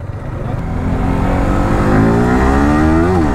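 Motorcycles at a race start, an RS 400 against a Yamaha R15 V4, rev and accelerate loudly, engine pitch climbing steadily before a quick shift near the end.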